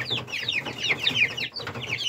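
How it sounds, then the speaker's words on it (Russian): Young chicks and pheasant chicks share a pen, giving off a busy overlapping chorus of high, rapid peeping and soft chirps with a brief lull midway. "Тут цыплята и фазанята вместе."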